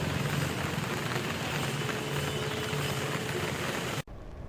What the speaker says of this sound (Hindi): गुजरात में इन दिनों जमकर बारिश बरस रही है